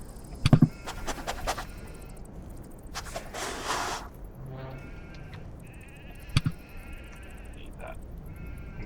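A goat creature in the game CHKN lets out short bleats, two sharp bursts a few seconds apart, among faint scratchy clicks and quiet background game sounds.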